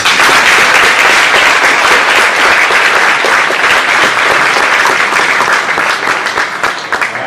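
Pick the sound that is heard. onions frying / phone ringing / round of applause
round of applause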